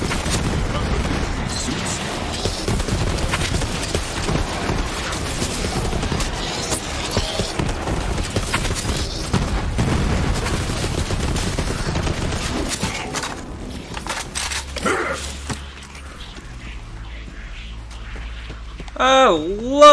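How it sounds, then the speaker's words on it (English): Rocket launcher fire and explosions in the video game Borderlands 3, loud dense booms and blasts for most of the stretch, tapering into quieter effects near the end. "I love a good rocket launcher."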